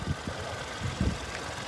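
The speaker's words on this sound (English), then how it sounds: "Engine's been running since we started." Faint, low rumbling car engine idling at a steady pace, with soft irregular knocks and vibration pulses and no voices.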